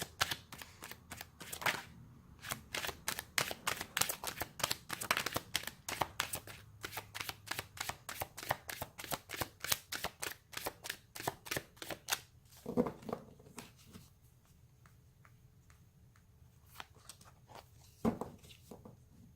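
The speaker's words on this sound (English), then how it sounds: "Let's pull a card for your emotional space." Tarot cards are shuffled by hand in rapid riffling bursts, crisp close flicks repeating for several seconds before a few slower, fainter card handling sounds.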